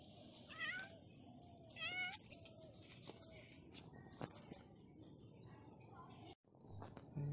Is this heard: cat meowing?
yes